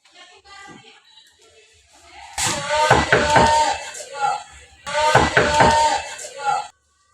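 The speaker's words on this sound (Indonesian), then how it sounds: "Faton dan Putri datang ke ruang BK lalu mengetuk ruang BK." Knocking on a school counseling room door in a classroom role-play: two bursts of quick, sharp raps separated by a short pause, fairly loud and close.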